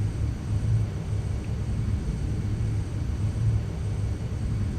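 An aircraft in the Entropia Universe video game flies with a steady low droning engine rumble, constant and even throughout with no voices over it.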